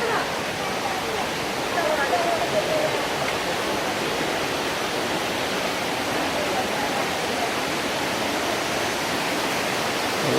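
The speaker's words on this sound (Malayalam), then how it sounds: "വെള്ളച്ചാട്ടത്തിൻ്റെ അവസാന ഘട്ടത്തിലേക്ക് എത്തിയിരിക്കുകയാണ്." Ezharakund waterfall in Kannur at its lower stage, just past a wooden footbridge, with a constant, dense hiss of rushing water, loud and unbroken from start to finish.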